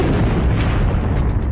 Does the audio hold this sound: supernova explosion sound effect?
yes